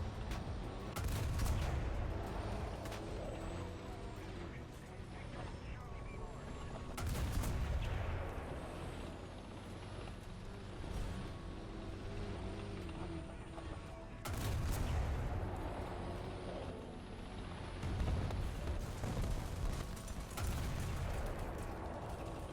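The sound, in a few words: Challenger DS tank firing into enemy turret, War Thunder video game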